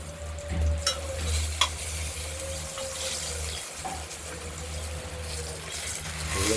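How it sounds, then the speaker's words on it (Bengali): Steady, loud sizzling of cut katla fish frying in hot oil, with a few brief scrapes of stirring and a low hum underneath. "ভাজা হয়ে গেছে হালকা হলুদ করে"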